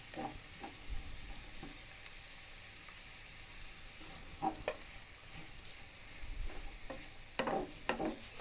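Noodles stir-fry in oil with a soft, continuous sizzle, punctuated by occasional scrapes and taps of a spatula turning them, fairly quiet and close, no voices.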